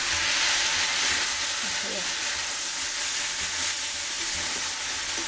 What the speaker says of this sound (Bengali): পেঁয়াজ ভেজে রাখছি